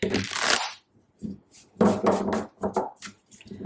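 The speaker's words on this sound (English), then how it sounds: "One more shuffle and we'll get started." Rapid riffling and flicking of tarot cards, a burst of shuffling followed by several shorter shuffles and taps, close and fairly loud.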